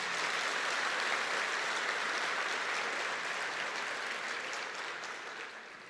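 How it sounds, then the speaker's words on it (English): New students at a university welcome ceremony applauding themselves, a dense, sustained crowd clapping filling a large hall, steady and then slowly tapering off near the end. "You may ask why you're giving yourselves a round of applause."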